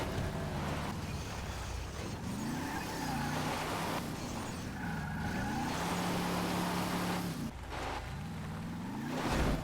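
A car engine revs hard while climbing a steep hill, droning loud and continuous with pitch rising and falling as the throttle surges, plus some wind rush, heard up close with no talking.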